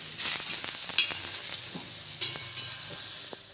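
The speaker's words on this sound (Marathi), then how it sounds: "कांदासुद्धा आपल्याला तसाच गुलाबी रंगाचा भाजून घ्यायचा आहे" Onion fries in a pan for a home-style aloo matar dish, giving a soft, close sizzle with occasional scrapes and stirring clicks, quiet and without talk.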